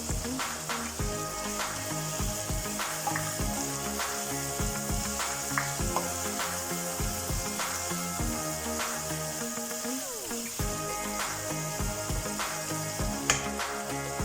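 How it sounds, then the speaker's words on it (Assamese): Chopped tomatoes fry in hot oil for chicken biryani, a dense continuous sizzle with crackling pops and occasional stirring scrapes, close and steady without talk. "এইখিনি অলপ সময় ভজা হ'ব লাগিব।"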